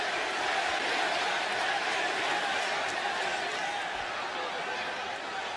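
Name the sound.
WWE wrestling arena crowd cheering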